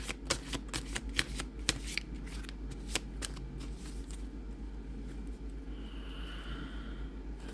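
Slippery oracle cards are shuffled up close during a reading, several brisk riffles in the first few seconds before it settles into a low, steady rumble of background noise.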